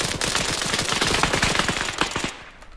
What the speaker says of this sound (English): Definitely just shot him for V1.